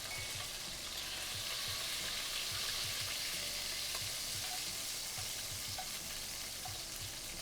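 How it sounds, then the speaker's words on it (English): Orange peel fries in a wok with a steady, dense sizzle and occasional stirring clatter, close up and continuous, with no talk. "The orange peel really fried up."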